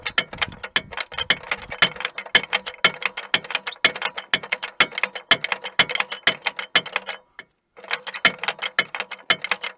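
A hand ratchet clicks rapidly while loosening 15mm bracket bolts during starter removal on a 2006 Pontiac Montana minivan, close and crisp bursts of clicking with a brief pause near the end.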